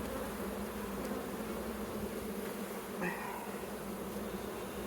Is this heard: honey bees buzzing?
yes